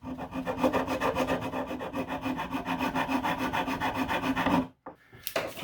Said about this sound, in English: another permagrip tool, but it's a cone this time, just to radius off that edge.